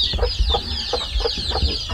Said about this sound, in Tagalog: Rhode Island Red pa naman yan.